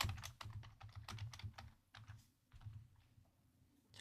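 Rapid clicking keystrokes on a computer keyboard, typed in quick uneven bursts close to the mic with short pauses between runs, no voices.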